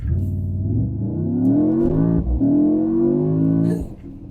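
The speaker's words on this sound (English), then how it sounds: "Under full throttle, this car takes off." A 2024 Mercedes-AMG GT 63 S engine revs hard and climbs in pitch under full throttle in sport mode, with a brief shift dip midway before surging again, loud and close.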